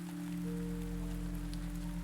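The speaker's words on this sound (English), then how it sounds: "the rain turning into a quiet background melody" Heavy rain falling on a storm night, a steady dense hiss of drops on surfaces with a low constant hum underneath, even and unbroken throughout with no voices.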